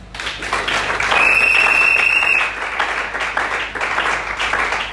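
A church congregation applauding together, a dense steady wash of clapping filling the room at a loud level for several seconds, with a brief high whistle-like tone rising above it.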